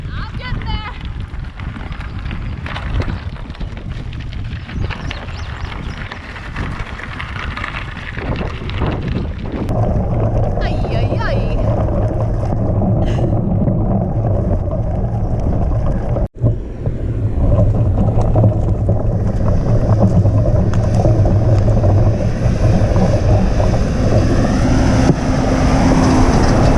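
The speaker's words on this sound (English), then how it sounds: "I'm so glad the wind's blowing that way." Wind blows across a trail bridge during bike camping, a steady loud rumble and buffeting close to the microphone that continues throughout, with brief knocks partway.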